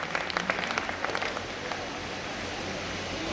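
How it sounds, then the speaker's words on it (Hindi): Audience at a kavi sammelan and mushaira poetry gathering clapping to welcome a poet, a short burst of quick clustered claps at first, then settling into a softer continuous patter of applause. "जोरदार तालियां"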